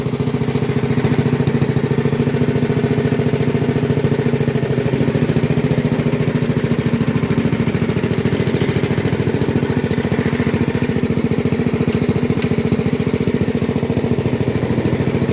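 A 1970 Sears Suburban 12 garden tractor engine runs steadily and loudly up close for the whole stretch, a constant mechanical drone with no pauses.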